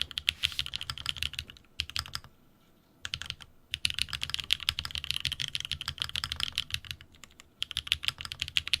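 Close, steady typing on a computer keyboard, with fast bursts of clacking keystrokes broken by two brief pauses.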